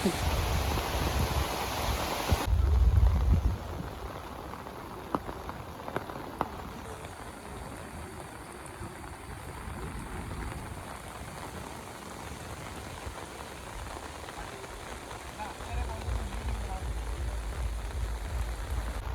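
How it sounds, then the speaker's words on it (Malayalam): Heavy rain pours steadily onto surfaces outdoors, a dense continuous hiss of drops with no pause, moderately loud and even throughout. "നല്ല മഴയാണ്"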